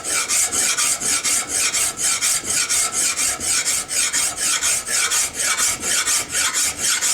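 A 10-inch bastard file works a gun part by hand in a gunsmith's shop, rasping in a fast, even rhythm of repeated scraping and forward strokes, loud and close.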